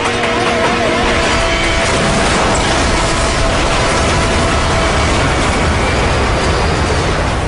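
A train passing on railway tracks through a crowded city crossing at rush hour, a loud, steady rumbling roar filling the whole stretch with a faint mechanical hum early on.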